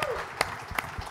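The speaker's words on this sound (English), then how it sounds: "Let's get a round of applause for GAP." Brief scattered clapping from a small group, a few sharp claps standing out over a low murmur, fading quickly.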